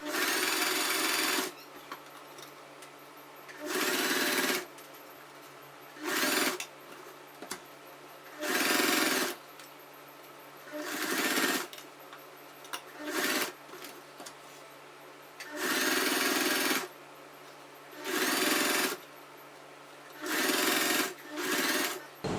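Stitching along a churidar neckline edge, a sewing machine whirs in repeated short runs of a few seconds each, separated by pauses, close and steady.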